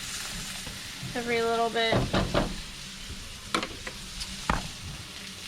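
Rice sizzling on low heat in a pan for steak fajitas while being stirred, a steady frying hiss with spoon scrapes and knocks against the pan; someone speaks briefly over it.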